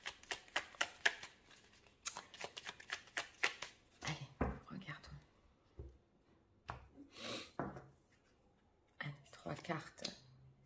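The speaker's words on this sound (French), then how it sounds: "On va tirer toutes les cartes et puis on va les ouvrir" Tarot cards being shuffled and drawn by hand, a quick run of crisp riffling bursts up close, then scattered slaps and flicks as cards are laid out while someone talks.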